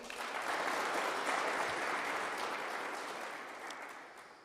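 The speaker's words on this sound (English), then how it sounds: "So, can we give the Honorable Governor another round of applause?" An audience at a petroleum policy event applauds the governor, a soft, dense wash of clapping heard from a distance. It swells early and gradually fades toward the end.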